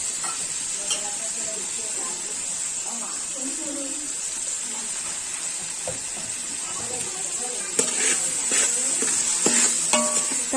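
Tomatoes sizzle and soften in hot oil in a pan for mutton biryani, a constant close frying hiss with scattered stirring scrapes and clinks growing busier toward the end, under occasional talk.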